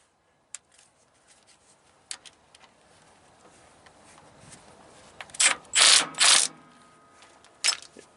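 A ratchet wrench turns the brake adjuster on an S-cam brake of a three-axle semi trailer fitted with new drums, giving faint scattered clicks and then several loud close bursts of rapid ratcheting with no voices.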